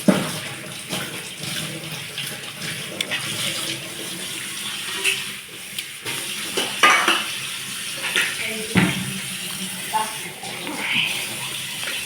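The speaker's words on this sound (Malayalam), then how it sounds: "ഉള്ളിയൊക്കെ വൃത്തിയായിട്ട് കഴുകിയെടുക്കാം" Chopped onions rinsed under a running kitchen tap, with a steady wash of water punctuated by clinks of a bowl and utensils, close and moderately loud, while someone talks over it.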